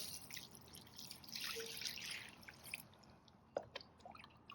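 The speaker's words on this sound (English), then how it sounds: "we shall now start putting jugs of water in" Water tipped from a jug onto an artificial grass base stone sub-base, a soft broadband splashing and trickling wash with scattered drips, moderately close and fairly quiet, with no talk.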